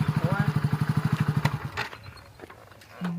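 A motorcycle engine idles with a steady rapid putter for about a second and a half, then cuts off, leaving some clatter and faint voices.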